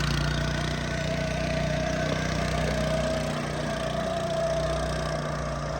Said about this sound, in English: We think the whirring noise is the gearbox, maybe.